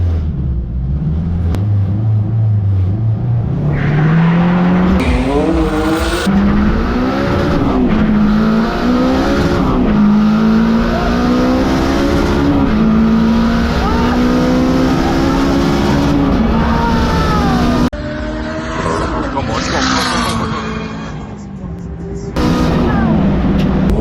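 A £900 Honda Civic on a drag run, its engine revving loud and close through rising gear-by-gear sweeps over about twenty seconds, with brief shifts and a voice or two in the cabin.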